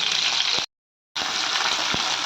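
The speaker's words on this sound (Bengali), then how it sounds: "তেজপাতা, এলাচ, লবঙ্গ, মির্চি, এগুলোকে সব ভালো করে ভেজে নিতে হবে" Bay leaf, cardamom, cloves and chilli fry in hot oil with cumin, giving a steady, close sizzle that cuts out briefly in the middle before resuming.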